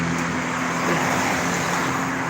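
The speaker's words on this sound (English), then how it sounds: "I'm gonna wait for the cars to pass" Cars pass by on a nearby road, a continuous loud rush of traffic noise that holds steady throughout.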